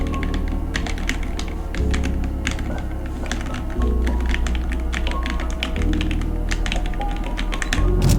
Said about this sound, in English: I'm also going to give you guys a sound test with my keyboard with the mic